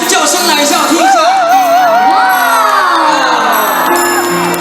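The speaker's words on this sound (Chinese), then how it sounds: "全场的尖叫声来一下，" Concert crowd at a temple celebration gala in Tainan screaming and whooping loudly on cue, many high shrieks rising and falling together, with music and a voice on the stage sound system mixed in.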